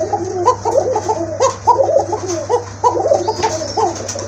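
Pigeons at a market stall selling domestic and foreign breeds coo in repeated soft throaty bursts, several birds overlapping close by over a low steady hum, with no talking.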